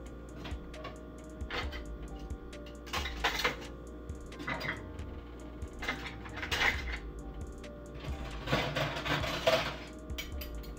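Dishes go into a home dishwasher with a series of light clinks, clatters and rattles of plates and cutlery, some louder bursts among quieter ticking handling sounds, with no one talking.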